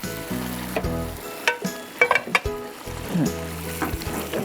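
A fried onion tempering (bagar) is stirred into beef kala bhuna, giving a loud close sizzle and frying hiss with clinks and scrapes of a spoon against the pan, while music plays faintly underneath.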